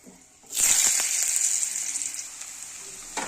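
Spices with dried red chillies and a bay leaf sizzle in hot oil as vegetables are tipped into the pan, starting with a sudden loud hiss that settles into a steady frying crackle, close and alone.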